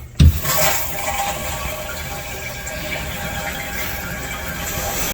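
Water rushing into the tank of a new Project Source Pro Flush dual-flush toilet, a steady loud hiss and gurgle that starts abruptly and runs continuously at close range, no talking.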